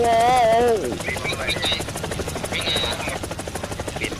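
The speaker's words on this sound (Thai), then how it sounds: "เสียงเครื่องบิน" An aircraft engine in the Roblox horror game Frigid Dusk hums steadily at moderate loudness with a buzzing, helicopter-like drone, while an excited voice shouts over the opening second.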